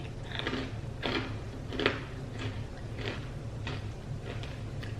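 Crisp crunching bites repeat about every second, close to the mic, over a low steady background hum.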